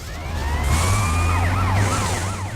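Police siren in the PS2 video game Grand Theft Auto: Vice City Stories during a chase, a loud wailing tone sweeping up and down over a steady engine rumble.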